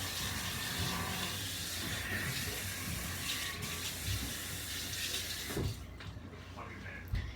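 Tap water runs steadily into a kitchen sink as someone rinses grease-covered hands while baking brownies, a continuous close hiss and splash with muffled voice underneath, ending in a sharp clatter.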